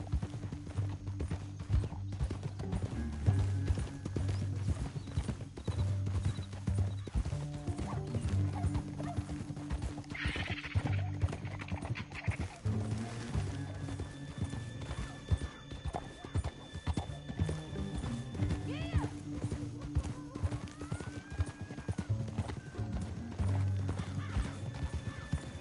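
Horses' hooves clip-clop steadily throughout a canyon ride in the video game Red Dead Redemption, with a neigh and whinny midway, faint mechanical rattles and a low background score, no speech.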